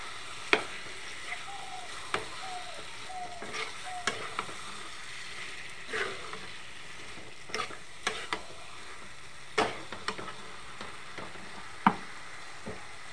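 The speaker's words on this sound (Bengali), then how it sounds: "মাংসগুলো দিয়ে দেবো। ভালোভাবে নাড়াচাড়া করে নেব।" Mutton pieces stirred in a pan after onions fried until reddish for a mutton curry, with a soft steady sizzle broken by intermittent scraping clicks and knocks of the spoon, close by and alone.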